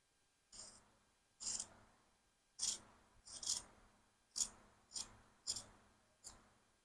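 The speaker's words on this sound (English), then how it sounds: "So now we're going to cut out some fiberglass." Eight separate crisp snips or cuts spaced about a second apart, close and fairly quiet, as fiberglass cloth is cut while building a custom H17 high-performance RC hydroplane boat, with no talking.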